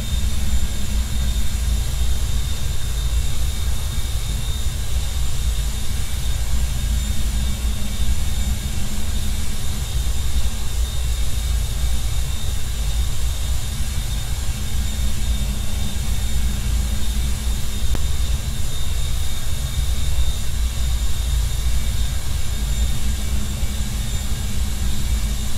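Beriev A-50 airborne radar aircraft on approach in the Roblox flight game Aeronautica, giving a steady, loud engine hum with a constant low drone and faint high whine that barely changes throughout.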